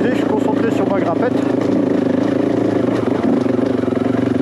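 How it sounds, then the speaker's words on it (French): A 501 dirt motorcycle engine pulls hard up a steep off-road climb, a loud, steady, continuous drone with a slight pulsing throb and no break. "j'aime bien les petites grimpettes avec le 501 qui tracte."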